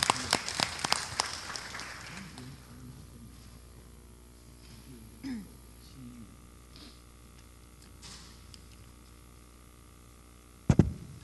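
A short burst of applause rises in a Taoyuan city council chamber to welcome a visiting delegation, then quickly fades into quiet room hum with a few faint murmurs and a single loud knock near the end.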